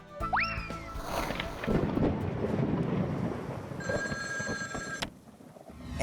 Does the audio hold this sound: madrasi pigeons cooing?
no